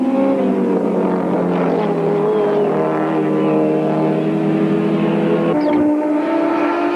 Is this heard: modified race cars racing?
yes